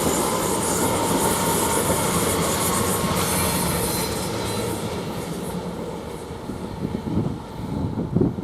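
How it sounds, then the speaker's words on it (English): An Elizabeth Line train departs Romford station bound for Shenfield, a loud broad rumble of wheels and motors that fades slightly, then rattles and clatters unevenly near the end as the cars pass. "Now we've got a train leaving Elizabeth Line"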